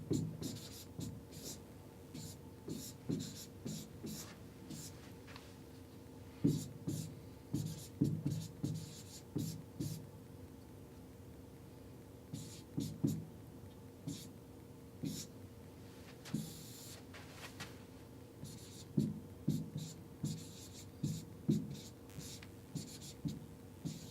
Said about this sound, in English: just write down a random statement of propositions